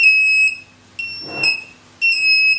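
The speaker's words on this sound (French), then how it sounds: "La plupart des caissons Nauticam sont équipés d'un détecteur d'entrée d'eau sonore" A loud electronic alarm from a Nauticam underwater camera housing's water leak detector beeps in long, piercing tones, three bursts separated by short gaps, with a brief rustle in one of the pauses.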